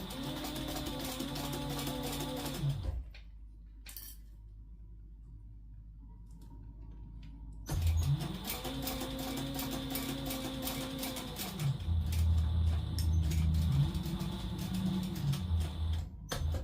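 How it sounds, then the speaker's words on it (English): A sewing machine stitches a 3/8 inch seam with a back stitch on a bag, running in steady bursts of whirring with a long quiet pause between runs. "We're going to start here and sew down at 3/8 inch seam allowance."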